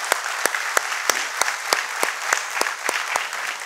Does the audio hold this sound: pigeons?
no